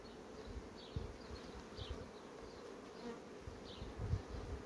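Honey bees from a beehive colony buzz steadily and softly, a continuous droning hum with individual insects passing close now and then, no voices present.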